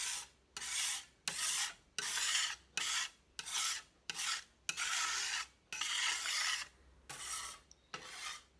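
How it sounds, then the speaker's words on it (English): Close rasping strokes of a scraper tool dragged across a workspace to clear off clay, about a dozen firm back-and-forth scrapes in steady rhythm with short pauses between, no talking. "So I like this tool. It's a scraper tool."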